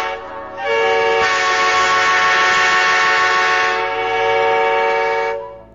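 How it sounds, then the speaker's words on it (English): A train whistle blowing one long, loud, steady harmonic blast near the tracks, holding for about five seconds before cutting off, with no talking. "A train's whistle."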